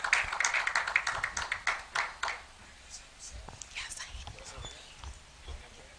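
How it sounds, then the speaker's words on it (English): Audience at a panel showcase on local film production clapping, a burst of scattered applause that thins out after a couple of seconds, followed by quieter room noise with faint murmuring. "A round of applause for him,"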